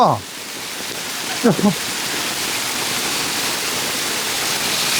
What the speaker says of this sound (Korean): 여러 우박이에요. 비가 아니고.